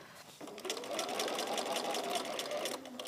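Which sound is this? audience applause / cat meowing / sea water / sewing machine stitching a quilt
sewing machine stitching a quilt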